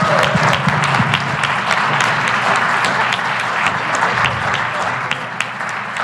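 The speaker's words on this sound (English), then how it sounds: "So we owe you a big round of applause." A crowd at a Philadelphia event on water infrastructure breaks into sustained applause, dense steady clapping from many hands that holds at a constant level throughout.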